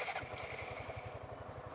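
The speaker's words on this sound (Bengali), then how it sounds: "এই যে দেখেন বাইক স্টার্টে আছে, কিন্তু বোঝাই যাচ্ছে না বাইক স্টার্টে আছে নাকি।" A second-hand motorcycle idles quietly with a soft, even low putter of regular engine pulses, faint and steady with no voices.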